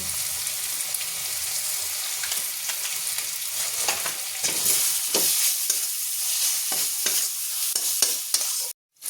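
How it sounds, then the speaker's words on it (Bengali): Ground spices with cumin and Kashmiri chili powder sizzling in hot oil while a spoon stirs them in a pan: loud steady frying crackle with rhythmic scraping strokes, ending in an abrupt cut and a brief click. "এবার এটা আমি মশলার সাথে ভালোভাবে মিশিয়ে নেব নিয়ে ভালো করে কষব আর দিয়ে দিলাম কাশ্মীরি লঙ্কার গুঁড়ো"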